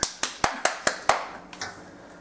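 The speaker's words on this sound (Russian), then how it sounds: "аплодисменты" Six sharp, evenly spaced hand claps ring out close by at a quick steady pace, followed by two fainter, softer claps as the clapping trails off.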